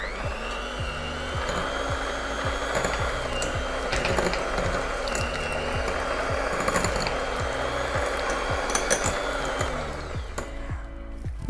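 An electric mixer whirs steadily while creaming room-temperature butter with sugar for a Christmas cake batter, producing a continuous close motor drone with light rhythmic ticking from the beaters that carries on without a break.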